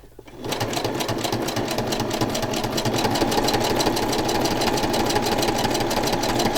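A sewing machine stitches a pocket journal, starting up after a brief pause and then running in a steady, loud, rapid mechanical rhythm throughout, close to the listener.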